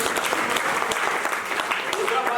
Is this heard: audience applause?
yes